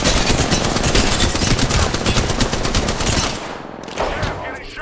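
Rapid automatic gunfire in the video game Apex Legends, a dense loud burst of shots for about three seconds, then a short pause and a brief final volley.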